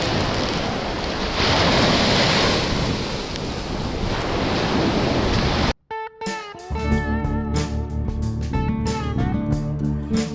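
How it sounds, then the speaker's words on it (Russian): Sea waves and wind on a wild, empty shore with shell-grit beach: a loud, continuous surf roar mixed with gusting wind buffeting the microphone, cut off abruptly partway through and followed by music. "Море, ракушничок, ветер, природа, вот эти волны."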